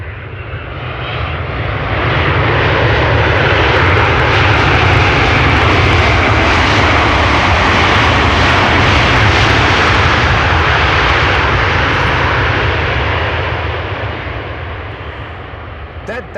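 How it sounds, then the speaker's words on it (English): United Boeing 767 jet, flight 909 from Chicago, arriving at Amsterdam Schiphol: a loud, broad engine roar swells in over two seconds, holds steady and powerful for about twelve seconds, then fades slightly, very close and overwhelming. "It's a 767 from United, flight 909 arriving from Chicago."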